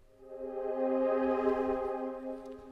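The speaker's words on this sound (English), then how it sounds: "with the Tricera chorus, our little pad now sounds like this" A soft, sustained synth pad chord through an Eventide Tricera chorus plug-in swells in and holds steadily, with a gentle shimmering, wavering quality, quiet and alone.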